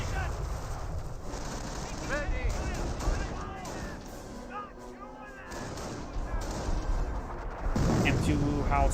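M2 Howitzer artillery barrage in the World War II strategy game Company of Heroes, dense rumbling blasts and gunfire rolling continuously beneath a voice talking over the action.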